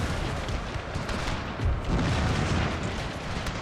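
Cannon fire in a Total War battle set in the Thirty Years' War, a dense rumble of booming artillery shots and gunfire rolling continuously with no speech.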